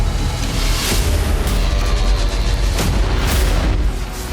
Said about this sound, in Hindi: जोरदार धमाके के साथ MQ-9 ड्रोन का मलबा जमीन पर गिरा